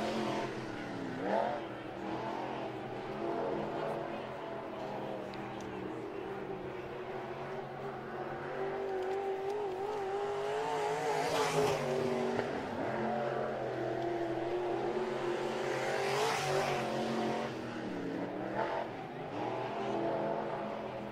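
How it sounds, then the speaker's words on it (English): Dirt late model race cars at Atomic Speedway in a Lucas Oil Late Model Dirt Series session, engines droning steadily, with revving swells and two cars passing close by, loud and continuous. "All right, next group of cars coming out."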